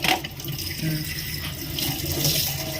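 Water runs steadily from a kitchen sink faucet fitted with a splash-reducing attachment, a close, continuous hiss and patter of flow with no talk.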